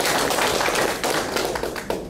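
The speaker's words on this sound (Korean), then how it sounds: "힘찬 안부의 박수 한번 쳐주시면 대단히" Lecture audience claps together at the speaker's request, a dense, loud burst of applause that fills the whole moment and fades slightly at the end.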